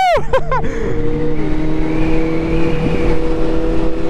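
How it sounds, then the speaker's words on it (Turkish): A Kawasaki Z800 motorcycle with an aftermarket exhaust accelerates hard, its loud, rising engine note climbing through quick shifts, heard close from the rider's position with wind rushing underneath. "Oğlum egzozlu motor çok iyiymiş lan."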